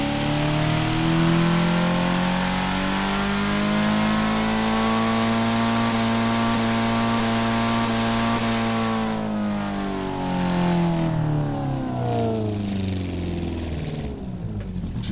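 Simulated car engine in Assetto Corsa, built in Automation as a donk, sits at a steady loud idle-to-mid drone for nine seconds, then sweeps through a rev change with falling and rising harmonics before easing off.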